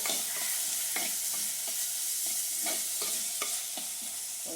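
Onions fry in a pan with a steady sizzle, while a utensil scrapes and stirs them in repeated strokes, close and clear with no talking.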